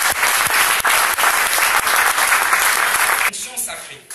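A church congregation bursts into sustained, loud applause praising the Lord, dense rapid clapping that fills the space for several seconds before tapering away.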